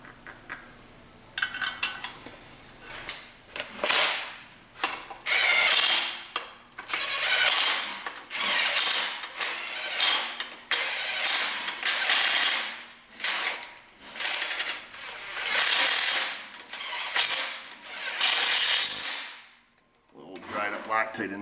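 Ratcheting on the engine of a 2005 Pontiac Vibe with a 1.8 engine comes in repeated bursts of rapid clicking, close and loud, separated by brief pauses, with occasional low talk between passes.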